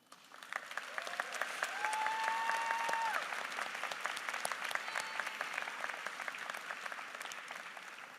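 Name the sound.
graduates applauding their teachers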